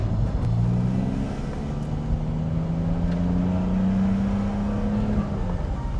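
A BMW S54 straight-six engine in a 2002 M Coupe revs with a smooth, sustained tone, holding a steady rising pitch close by with no talking.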